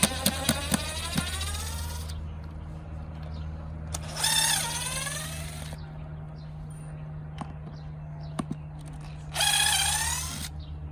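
Cordless drill backing screws out of a wooden trellis on a backyard raised garden bed, three whirring bursts of a few seconds each with ratcheting clicks between, close and loud over a faint steady hum.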